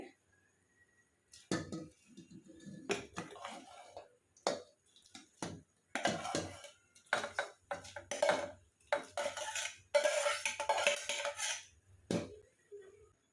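Cooked rice spooned into warmed milk in a pot for a homemade sweet, with scattered clinks and scrapes of a spoon against metal and soft wet stirring in irregular bursts, fairly close.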